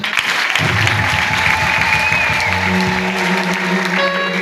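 An audience at a public gathering for a governor claps loudly and steadily for several seconds, dense close applause with a faint crowd murmur and a brief tone near the end.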